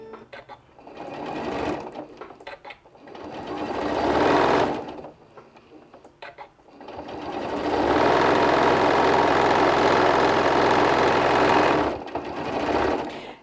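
A sewing machine stitches fabric pieces for an ice cream cozy along a marked X, chain-pieced. It runs in several loud, close bursts of steady whirring, with the longest run in the middle and short pauses between.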